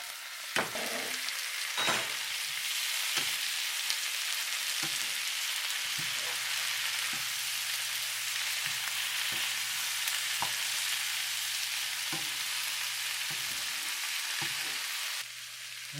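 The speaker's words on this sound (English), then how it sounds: "So kind of brown them up a little bit." Lemongrass pork chops browning in a hot pan with cooking oil, giving a steady, loud sizzle and crackle throughout with occasional pops and spatters, close by and with no talking.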